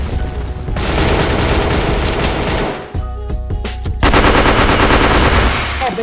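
Automatic gunfire in a tactical online shooter match, rapid rattling bursts from nearby weapons firing almost nonstop, breaking briefly before resuming louder, with little talk.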